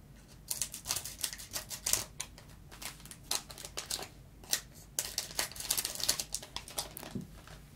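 Pokémon booster pack being torn open by hand, crisp crinkling foil and sharp tearing rustles in irregular bursts, close and fairly quiet with no talking.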